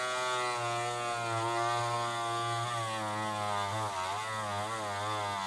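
Tamiya electric handy drill boring through a carbon part, a steady motor whine with dense harmonics that wavers slightly as the bit bites, running continuously and fairly loud on a weakening battery.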